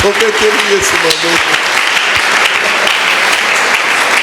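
Church congregation applauding and cheering during a sermon, sustained loud clapping and shouts with a voice speaking briefly at the start.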